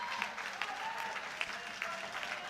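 A crowd applauds and cheers a world sub-junior women's deadlift record at a powerlifting championship, dense steady clapping with a few sharper claps, heard at a moderate distance.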